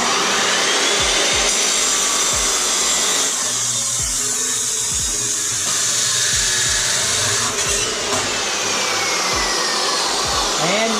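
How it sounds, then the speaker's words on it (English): Cold cut saw slicing through a metal downpipe for a Miata, a loud continuous grinding whine with a steady motor drone and scattered clanks, close and alone without talk. "try to angle this in the cold cut saw as well as possible"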